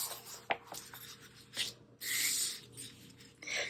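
An X-Acto knife draws through hard foam along a ruler, giving several close, dry scraping and rasping strokes with short pauses between them and no voices.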